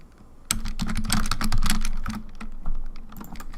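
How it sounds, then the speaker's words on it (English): Typing on a computer keyboard, a dense run of quick, close clicks and taps that starts abruptly and carries on busily to the end, with no voices. "Let me change the title so you can hear my typing."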